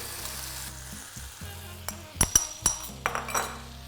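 Bean ragu goes into a hot pan beside seared cabbage parcels, and a low sizzle runs under a burst of sharp clatters and scrapes from a utensil against the pan.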